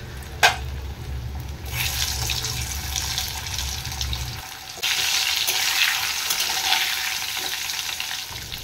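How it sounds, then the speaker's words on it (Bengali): Potato pieces fry in hot oil with salt and turmeric in a kitchen pan, a continuous loud sizzle with stirring noises and a brief clatter near the start. "তো এই জন্য নুন হলুদ দিয়ে আমি আলুটা ভেজে নেব।"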